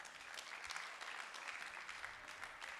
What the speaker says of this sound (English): Please, a round of applause for Mr. Ray.